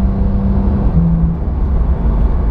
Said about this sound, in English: it's just sublime to be able to appreciate this audible tone chain of a gear shift